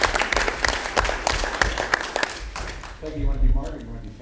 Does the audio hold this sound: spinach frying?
no